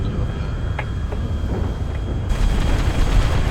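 A Grand Theft Auto explosion rolls out as a loud, sustained low rumble with broadband roar, swelling further partway through and continuing to the end, with no talk over it.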